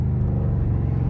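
A 550-horsepower Dodge Charger Scat Pack pulls hard in first gear, its deep engine rumble loud, close and steady with no voices over it.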